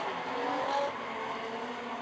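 A Nissan 350Z drift car battles another car at a street drift league event: a steady, loud roar of engine and squealing tires fills the whole moment without a break and with no talking.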